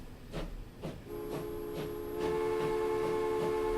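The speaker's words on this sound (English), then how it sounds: "And he says goodbye too. Bloody whistles, McGee." A train whistle sounds in the video game Transport Fever on an American map: a sustained, steady multi-tone whistle that begins partway in and holds to the end, over hissing rail noise and earlier rhythmic chugging.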